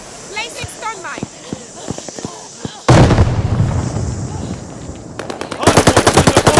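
Call of Duty: Vanguard multiplayer with bots on a hardpoint: bursts of automatic gunfire, first scattered single shots and then a long, loud, close rattle. A voice speaks in between.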